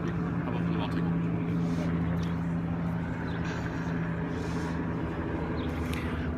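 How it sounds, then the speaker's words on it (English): A helicopter flies overhead, its steady low droning hum with a throbbing undertone running unbroken throughout, with murmuring voices faintly mixed in. "So that's a helicopter that's out"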